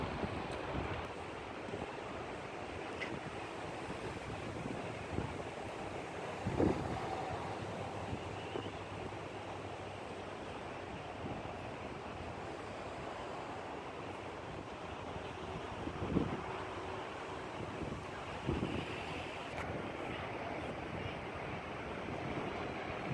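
Strong wind buffets the microphone while ocean surf rolls in continuously at Carmel Beach on a cold, windy February day, with occasional louder gusts and wave crashes over a constant roar and no voices.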